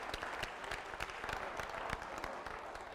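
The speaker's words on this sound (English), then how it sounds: "Give yourself a round of applause" Steady, dense applause from a crowd at a memory-training talk, close and continuous with sharp individual claps throughout, no voices over it.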